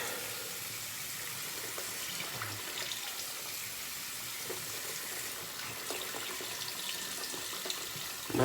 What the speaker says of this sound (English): Add a little bit of water to this.